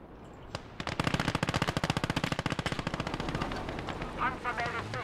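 Sustained automatic weapon fire from the WWII strategy game Gates of Hell: a long, loud, rapid burst of evenly spaced shots with a crackling echo, tailing off into scattered battle noise.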